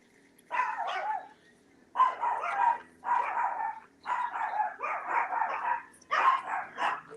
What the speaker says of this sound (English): Are they barking at that airplane?